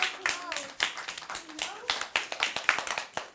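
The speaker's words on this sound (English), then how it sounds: "Give her a clap." Children in a primary school classroom clap for a classmate, a loose group of distinct hand claps in an uneven rhythm, close by, with young voices calling out over the clapping.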